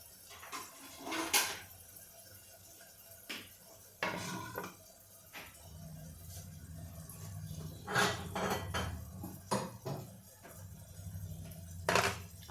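A cooked potato and brinjal borani dish is spooned into a bowl, with intermittent clinks and knocks of a spoon against dishware, fairly quiet and close.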